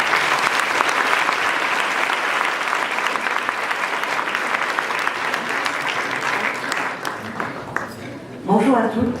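At a law conference opening, an audience applauds to welcome a speaker, steady dense clapping that tapers off near the end as a voice begins speaking.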